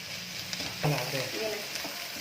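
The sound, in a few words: capsicum, beans and carrots frying in oil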